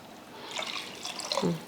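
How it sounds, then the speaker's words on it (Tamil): Water soaked from rice is poured into a cooking pot, a short splashing trickle rising at the end as the stream lands, close and fairly quiet. "அதில் ஒரு ஒன்றரை கப் தண்ணி ஊற்றிடலாம்"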